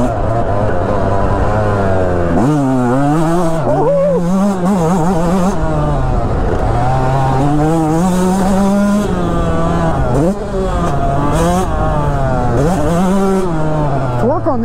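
A Yamaha YZ125X two-stroke dirt bike is ridden hard, its loud, close engine rising and falling in repeated revving bursts as it accelerates and shifts, with no talking over it.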